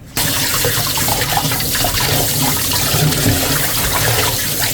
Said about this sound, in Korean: 흐르는 물에 가볍게 씻어줍니다.